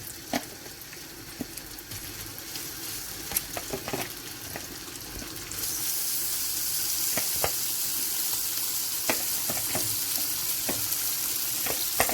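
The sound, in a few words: seafood frying in olive oil in a pan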